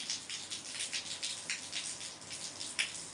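Artificial rain sprinkled near a baby sparrow makes a steady, soft patter of droplets, with no voices throughout.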